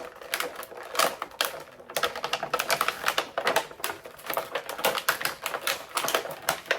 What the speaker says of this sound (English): Sorry about all that noise there in the video, but we're going to get him out of this packaging